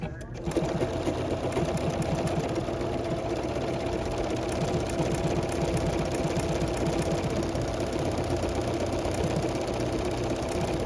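A Bernina 990 sewing machine runs a large decorative stitch, its close, steady rapid needle chatter continuing without pause throughout, with a voice speaking over it.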